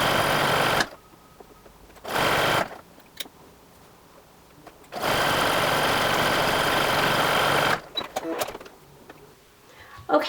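A sewing machine stitching elastic onto fabric for underwear, running in loud steady bursts of a few seconds each separated by pauses, with one long run mid-way and a voice talking in the gaps.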